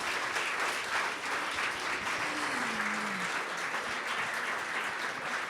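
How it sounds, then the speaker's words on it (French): Steady applause from a lecture audience after a talk on the global energy battle and fossil fuels, dense even clapping filling the room without pause. "On va déjà applaudir François Gemenne."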